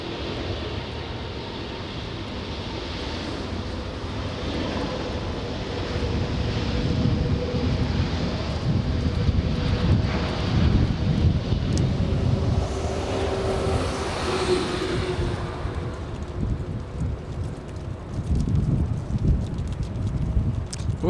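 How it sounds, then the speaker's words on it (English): Airbus A350 airliner departing Los Angeles airport: a broad, low jet roar rises and lingers for some twenty seconds at moderate distance, steady with gusty wind-like texture and no voices. "We're gonna stay with that A350 as it clears the trees."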